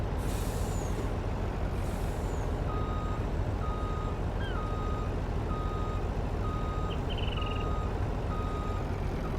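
In Farm Simulator 19, a truck is backing a trailer into a shed, with a sharp air brake hiss at the start and a steady series of reversing beeps over a constant low engine drone.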